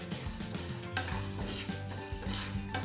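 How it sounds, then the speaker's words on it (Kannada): Coriander and cumin seeds dry-fry in a pan over a slow flame, with a soft dry sizzle and repeated scraping and rattling as the seeds are stirred. "ಕೊತ್ತಂಬರಿ ಮತ್ತು ಜೀರಿಗೆ ಒಟ್ಟಿಗೆ ನಾನು ಫ್ರೈ ಮಾಡ್ತಿದ್ದೀನಿ."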